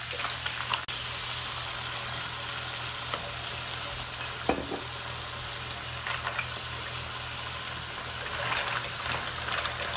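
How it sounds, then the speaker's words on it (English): White wine goes into a hot pot of mussels, giving a steady sizzle and bubbling with a few sharp clinks and scrapes of stirring, close and without talk. "we're gonna start adding our white wine"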